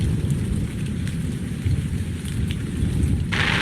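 Steady rain falls at night in Blanding, Utah, a loud, dense, continuous hiss and patter of drops all around with no voices.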